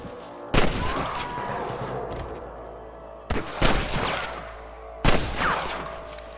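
Gunfire in the video game Red Dead Redemption comes as three separate bursts of loud shots with echoing tails, separated by a low rumbling background.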